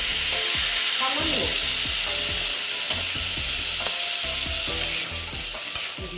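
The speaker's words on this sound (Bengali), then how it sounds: "আর আলুটাও দিয়ে দিলাম দিয়ে আবার একটু আমি সাঁতলিয়ে নেব" Potatoes and bitter gourd sautéing in a pan for a spicy korola aloo dish, a loud continuous sizzle with rhythmic scraping and knocking of a spatula stirring, no voices.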